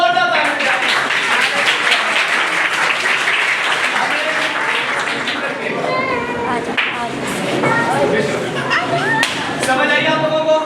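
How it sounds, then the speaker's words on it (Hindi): A church congregation claps and cheers loudly for Jesus at a pastor's service, with dense sustained applause running the whole stretch and voices mixed into the crowd noise. "उस यीशु के लिए जोरदार ताली बजाएं"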